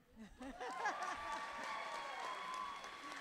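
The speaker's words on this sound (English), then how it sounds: "go clap that up" A crowd applauds at a high school commencement ceremony, building quickly into steady clapping with some cheering, while a voice speaks over the start and whistle-like tones ring through.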